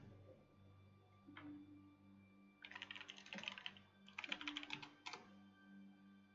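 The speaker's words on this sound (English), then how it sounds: "while I'm typing" Computer keyboard typing comes in quick bursts of soft clicking keystrokes, separated by short pauses, fairly close but quiet over a low steady hum.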